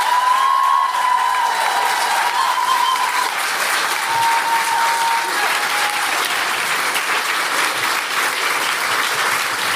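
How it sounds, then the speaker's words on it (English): Loud, sustained applause from a large crowd, continuous for the whole stretch, with a faint tone lingering early on. "I want to give them all a huge, huge round of applause."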